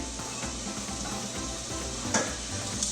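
Steady sizzling of onion and garlic frying in olive oil in a hot pan, a continuous crackling hiss with a few sharper pops, close and moderately loud.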